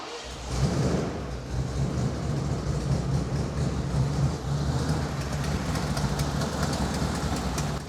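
A 1986 Ford F-150 pickup truck engine runs steadily at idle, a continuous low rumble with a faint rhythmic throb, close and without any talking.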